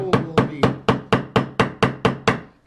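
Nine evenly spaced, sharp wooden taps as dowels are driven into drilled holes, each a crisp close knock with a quick decay, in a steady hammering rhythm.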